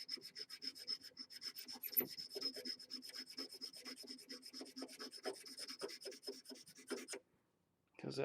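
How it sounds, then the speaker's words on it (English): Steady rhythmic rasping strokes of a lathe cutter being sharpened, dulled from cutting carbon fiber, repeating fast and close for about seven seconds before stopping, with a brief scrape at the end. "Right now, though, I'm going to sharpen my cutter."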